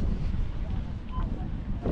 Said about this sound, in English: Wind's got up.